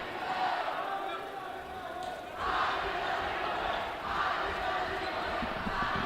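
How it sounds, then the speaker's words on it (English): Crawfordsville's cheer block at a high school basketball game in the Sugar Creek Classic chants in unison, a steady rhythmic crowd roar that swells in waves across the gym. "The I believe that we will win chant coming from Crawfordsville's cheer block"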